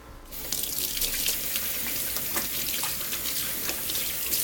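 Kitchen tap running while greasy hands are washed after shaping meat patties, a steady close splashing stream that starts abruptly and continues throughout, with small spatters and no speech.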